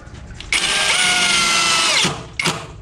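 A KEELAT 4-in-1 portable power tool runs as a screwdriver in a loud, close, high-pitched whir lasting about a second and a half, followed by a short second burst.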